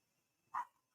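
One small dog gives a single short, faint bark from the background indoors, with quiet otherwise.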